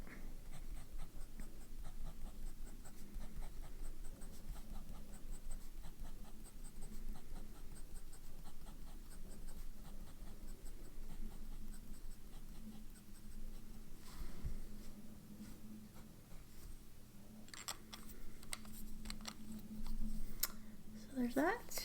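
A medium-nib fountain pen scratches steadily across paper in continuous close strokes, faint under a constant background hum, with a few sharper ticks near the end.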